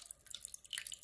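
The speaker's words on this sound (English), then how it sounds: "slowly add sodium hydroxide to your your nickel sulfate solution, and it should start changing colour" Sodium hydroxide solution being added slowly to nickel sulfate solution, heard as faint, quick liquid drips and light trickling, quiet and close with no voices.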